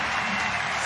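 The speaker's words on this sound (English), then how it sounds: "This crowd, I'm telling you, when you're down there amongst the French people, it is wild." A loud, dense crowd roars and cheers without a break at a CrossFit Europe semifinal competition in France, a wide wash of many voices and clapping filling the arena for a brief moment.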